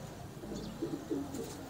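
Soft, low pigeon coos rise and fall a few times, fairly faint, over a quiet background hum.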